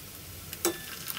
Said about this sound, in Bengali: গরম মশলাটা তেলে ভাজলে পেঁয়াজের সাথে মশলার গ্রানটা খুব ভালো আসে।